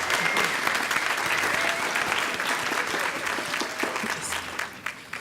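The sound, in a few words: audience applause for speakers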